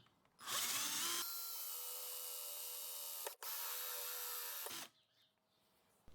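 A power drill bores into round material held in notches on a drill base, running loud and steady for about four seconds with a brief dip midway before stopping.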